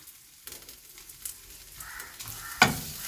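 Grated coconut with a little coriander powder is dry-roasted and stirred in a pan for varutharacha sambar, giving soft scraping and rustling strokes with one sharper clatter near the end. No voices.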